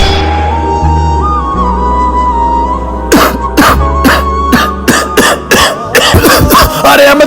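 Starting around three seconds, a man coughs repeatedly in harsh, rasping bursts, close and loud, after a stretch of low background hum.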